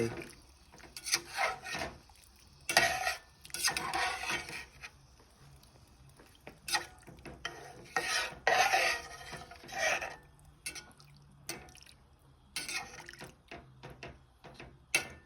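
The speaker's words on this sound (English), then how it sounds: "You are going to want to mix it up a bit because of the flour." A spoon scrapes and rubs through thickening broccoli cheddar soup in a pot after flour goes in, giving soft, irregular stirring bursts with brief pauses and quiet knocks against the pan, close and fairly faint.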